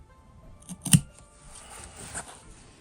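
Scissors snip through fabric while a simple sewn wallet is made, one crisp close cut standing out, followed by a few faint rustles of cloth; no voices.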